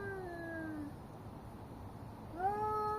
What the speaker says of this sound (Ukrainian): Із опери котячі бої.